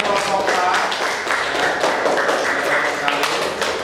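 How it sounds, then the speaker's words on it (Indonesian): Classroom applause for a student group, a few pairs of hands clapping close by in an uneven patter with some thumps, fairly loud, with voices mixed in. "Beri tepuk tangan untuk kelompok 4."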